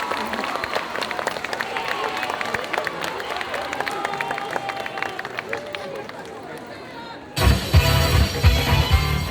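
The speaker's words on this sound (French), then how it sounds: "Un tonnerre d'applaudissements pour elle, s'il vous plaît" Crowd at a Japan Addict cosplay group contest cheering and clapping for a Genshin Impact cosplayer, busy hall noise with chatter throughout, then a sudden louder swell of applause near the end.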